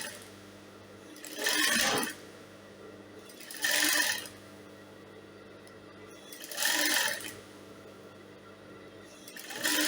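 Sewing machine top-stitching crinoline to organza, three or four short bursts of rapid needle stitching separated by quieter pauses with a low motor hum, close and clear with no talking.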